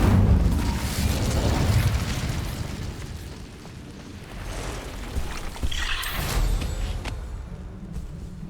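The Incendio fire spell is cast in Hogwarts Legacy, giving a loud, roaring burst of flame with booming, crackling bursts that swell, ease off and flare up again over several seconds.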